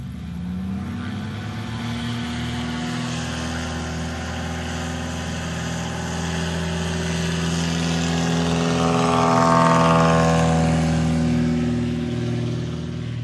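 A 2009 Murphy Super Rebel light aircraft drones steadily through STOL practice in the Rocky Mountains, its engine a continuous, moderately loud hum that swells and brightens toward the middle of the pass before easing slightly.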